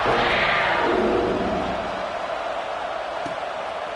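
A College Football 26 stadium crowd roars loudly at a Tennessee versus Kentucky game, swelling at first and then holding as a steady, broad wash of cheering.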